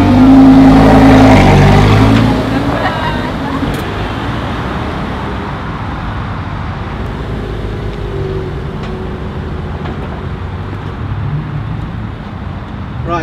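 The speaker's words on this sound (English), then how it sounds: "it's obvious to say that I'm driving a Lamborghini" A Lamborghini Superleggera driven in sport mode, its engine roaring loudly for about two seconds before settling into a steady, close driving drone with road noise; no one speaks.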